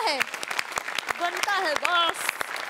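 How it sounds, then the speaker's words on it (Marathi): An audience at a Marathi comedy show claps in a burst of scattered, sharp hand claps, heard under a lively voice that keeps speaking. "आपल्या सगळ्यांसाठी आपण एकदा जोरदार टाळ्या वाजवायला पाहिजे."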